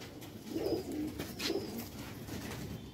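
Pigeons coo softly in a few low, throaty phrases against quiet outdoor background noise, with no talking.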